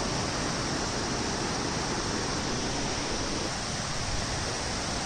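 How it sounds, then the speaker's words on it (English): A waterfall in Pyin Oo Lwin, Myanmar, gives off a steady, unbroken rushing hiss of falling water, even and moderately faint, with no voices. "Oh my god, there's a waterfall."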